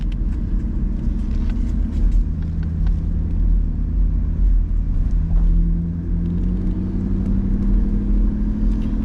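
A 1992 Mercedes-Benz 500SL with a 4-speed mechanical 722.3 automatic transmission drives along, its engine rumbling steadily from inside the car as pitch rises and dips smoothly through gear changes, no talking.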